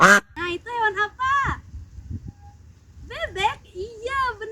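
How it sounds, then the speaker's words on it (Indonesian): Several duck quacks sound in two bursts, a rapid run of quacks at the start and another group after a short quiet gap, loud and close. "Itu adalah suara bebek."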